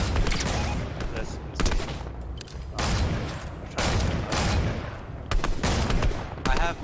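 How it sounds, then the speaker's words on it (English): Gunfire in Fortnite, including a burst rifle, cracks out in rapid volleys and bursts at close range, repeating in clusters across the whole stretch with little pause between them. "Someone is shooting."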